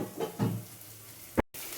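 Vegetarian bora fritters sizzling in hot oil, a soft steady crackle with a few brief stirring scrapes and a short clatter before a moment of silence.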